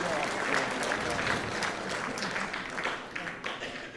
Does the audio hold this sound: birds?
no